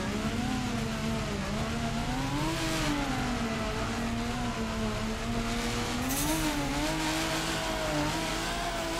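A drift car engine from the Torque Drift video game screams steadily and loudly throughout, its pitch wavering as it revs and holds through a slide, with a hint of tire noise and no talk.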